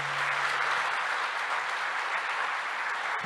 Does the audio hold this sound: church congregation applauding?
yes